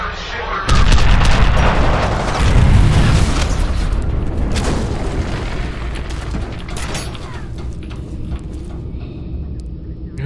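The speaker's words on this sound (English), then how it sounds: "I'm using a shotgun for long range" Heavy booming shotgun blasts in F.E.A.R. Extraction Point, loud and close, with a deep rumbling burst and then a long decaying echo under faint game ambience.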